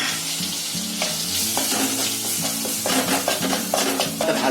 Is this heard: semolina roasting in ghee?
yes